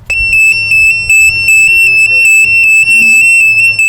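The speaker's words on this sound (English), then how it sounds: "A loud alarm goes off." An AED wall cabinet alarm sounding after its door is opened, a loud piercing electronic tone pulsing in rapid regular beeps throughout, close and dominant.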